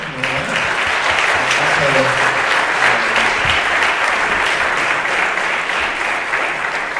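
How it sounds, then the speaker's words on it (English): Loud, sustained round of applause from a symposium audience on global trade and investment, thanking the panelists. Dense clapping holds steady throughout, with faint voices and murmurs beneath it early on. "I wanted to ask y'all to give our panelists a round of applause."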